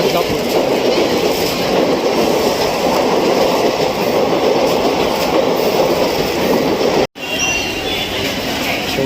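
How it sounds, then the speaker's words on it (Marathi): The Nandigram Express passenger train rumbles past close by, a loud continuous roar of wheels and carriages with a brief dropout near the end. "ही गेली नंदीग्राम गाडी नंदीग्राम त्यानंतर माझी गाडी"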